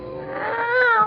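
A cat lets out a single rising, drawn-out meow, close and fairly clear, in a radio drama scene where the cat has just been stepped on.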